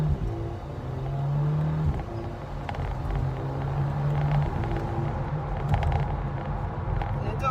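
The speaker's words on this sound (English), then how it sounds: "you'll be able to see what the exhaust sounds like" A modified Volkswagen Golf GTI's exhaust revs up and down several times, the engine note rising and falling in steady bursts over a low rumble.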